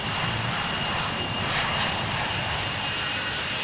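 Airbus A380 jet engines in the Infinite Flight simulator game, a steady loud broadband roar with a faint high whine running underneath, unchanging throughout.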